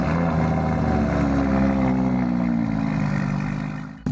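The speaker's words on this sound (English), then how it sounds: "So let's go ahead and hear this V10 startup on this car." An Audi R8 LMS GT3 Evo V10 race car engine starting up in the Driving Empire game, settling into a loud, steady idle rumble that holds for about four seconds before cutting off abruptly.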